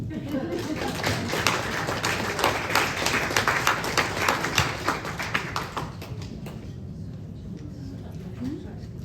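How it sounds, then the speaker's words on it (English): An audience at a caregiver conference in a senior center claps, a scattered, fairly close patter of hands that swells and then thins out, with a voice briefly audible near the end. "I'm gonna drink some water right now while you guys give me a round of applause"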